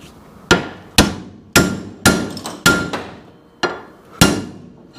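Hammer striking a rusted Sea-Doo engine part, with about eight loud close metallic blows at a slow, uneven rhythm, each ringing briefly before fading, and no talk.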